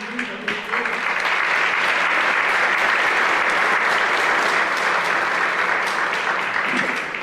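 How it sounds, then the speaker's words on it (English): Audience at a high school senior awards ceremony applauding a student art award recipient, a loud, sustained wash of many clapping hands filling the room for several seconds without a break. "Let's give her a round of applause."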